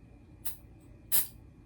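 Glue accelerator is sprayed onto super glue on a homemade fly, two short aerosol hisses, the second louder, heard close in an otherwise quiet space.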